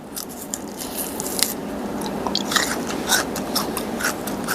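Crunchy candied giant tamarind from Phetchabun being bitten and chewed close up, with repeated crisp crunches and wet chewing over a few seconds, no talking.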